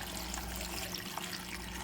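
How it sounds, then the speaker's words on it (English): About eight cups of water pour into a jar of fresh garden pickles in vinegar solution, a soft steady stream trickling and splashing at close range, faint and continuous with no talk. "Now I'm going to put about 8 cups of water in here"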